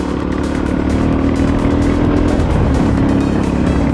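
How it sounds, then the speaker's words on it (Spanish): Voge 300 trail motorcycle engine climbing steep hills through vineyards in Andalusia, a loud, continuous engine drone with steady revs and no talking. "Qué maravilla de moto"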